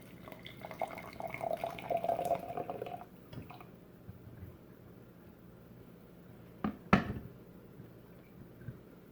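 Boiled old yeast liquid is strained, with wet trickling and dripping sounds at first, then quieter splashes and a sharp clatter near the end.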